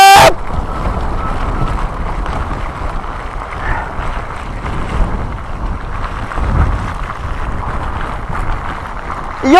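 Strong gusty wind roaring against the microphone as Typhoon No. 18 approaches, a steady heavy rumble with surging gusts and no talk.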